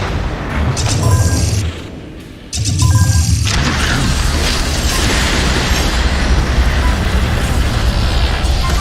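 A fire attack in an Unreal Engine video game erupts as a loud booming blast, preceded by short bursts and a brief dip, then a sustained roaring rumble that fills the rest of the clip.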